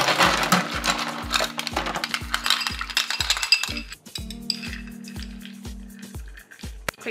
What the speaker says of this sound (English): Then just pack it with ice.